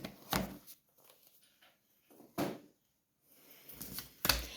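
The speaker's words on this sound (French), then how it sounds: "je range mes petites cartes" Tarot cards are handled and put away in a few sharp taps and knocks separated by quiet gaps, with soft papery rustling between them.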